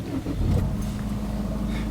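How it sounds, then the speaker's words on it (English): A car engine idles steadily with a low continuous rumble, a slight rise near the start suggesting it has just caught, heard outdoors on a street and fairly close. "Dad, can you start the engine, please?"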